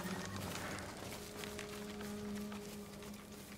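Horses in the Ghost of Tsushima video game give a faint whinny and soft hoof clops over a low steady ambient hum, quiet and brief.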